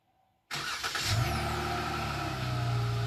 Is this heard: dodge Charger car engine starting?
yes